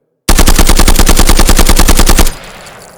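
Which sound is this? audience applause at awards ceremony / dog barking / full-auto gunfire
full-auto gunfire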